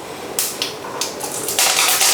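Half a teaspoon of mustard seeds hits hot oil in a pan and breaks into loud, close sputtering, with hissing bursts that grow denser over a couple of seconds.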